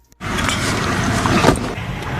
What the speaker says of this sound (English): you're on the same side as the traffic noise